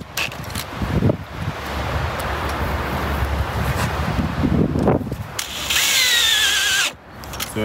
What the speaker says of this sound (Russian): Вот так вот приставляем к торцу саморезом под 45 градусов, закручиваем.